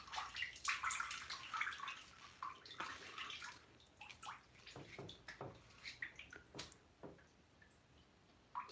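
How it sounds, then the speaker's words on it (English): Water dripping and splashing from soaked shirt and bottoms left to drip dry indoors, irregular close drips and trickles, fairly quiet with no talking. "Let me drip dry a little bit so I don't soak the house too much."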